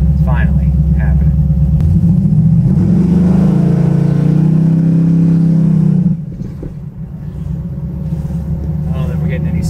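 Buick Regal street car on a test drive, a loud deep engine rumble that swells into a rising rev for a few seconds before dropping off to a quieter idle, with a voice talking over it.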